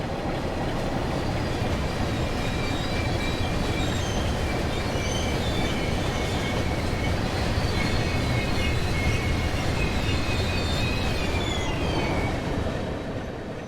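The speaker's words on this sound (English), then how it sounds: "Ah, another cement train." A cement freight train rolls past in a railway simulator, a steady, loud rumble of wheels on track with faint squeals and clatter holding evenly throughout, no voices.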